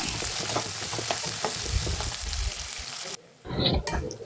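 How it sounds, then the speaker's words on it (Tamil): Onion and curry leaves sautéing in oil for a Tamil bottle gourd and dried fish curry, a steady close sizzle with scraping stir strokes that cuts out briefly near the end, then the frying resumes. "இப்போ வெங்காயம் கருவேப்பிலை சேர்த்துட்டு நல்லா வதக்கி விட்டுடுங்க"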